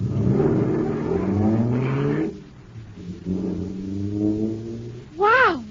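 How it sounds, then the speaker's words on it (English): Radio drama sound effect of a supercharged jet car engine starting, a droning, rising mechanical whine that dips into a quieter rumble, then builds again and ends in a sharp wavering upward wail, with no speech. "Wow, this jet car is supercharged now."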